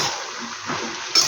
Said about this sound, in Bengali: আর মাছটা এখন ধোবো।